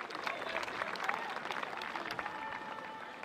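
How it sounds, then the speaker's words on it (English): A graduation audience gives steady, dense applause to choir director George Friend and the Divine Voices. The clapping is soft and distant, a continuous wash with no breaks. "Another round of applause for director George Friend and the Divine"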